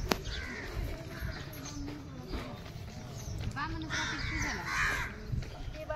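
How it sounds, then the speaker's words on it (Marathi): Crows cawing near a hospital outdoors, several harsh calls rising over a steady background rumble, with people talking nearby through much of it. "बघा कावळे काळ्या तोंडाचे कुठं पण येतात."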